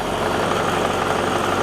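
A diesel trailer jetter engine rated 18 gpm at 4000 PSI, throttled up while warming on a cold day, gives a steady, loud, close engine drone that holds constant and has no talk over it.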